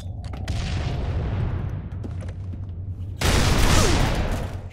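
Shotgun blasts and gunfire in the multiplayer shooter Halo 3, loud booming shots over a rumbling background, with a bigger burst of fire and explosions near the end.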